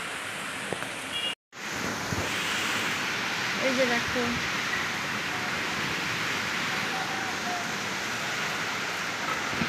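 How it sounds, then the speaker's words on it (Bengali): Continuous roar of heavy rain and gusting cyclone wind, steady and loud throughout, with a brief cutout early and a voice speaking briefly. "যেমন ঝড় তেমন বৃষ্টি তো প্রচুর বৃষ্টি ঝড় বৃষ্টি হচ্ছে"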